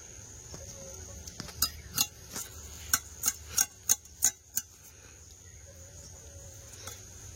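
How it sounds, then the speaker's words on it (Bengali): Sharp knife blows chop through a bony bele fish for cooking, about eight crisp knocks in an even rhythm at close range, with no talk. "এদিকে এই মাছ কাটছি"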